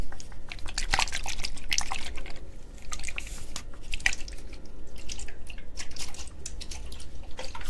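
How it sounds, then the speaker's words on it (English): Water drips irregularly, with scattered close droplets plinking and splashing over a soft, steady background wash. "So you like water sounds."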